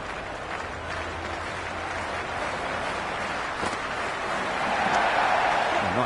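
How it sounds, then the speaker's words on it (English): A simulated stadium crowd roars and applauds in the cricket video game Cricket 26 during an Australia vs. Ireland T20 match at Melbourne Cricket Ground. The steady crowd noise swells louder toward the end, with commentary voices underneath. "The crowd is electric right now."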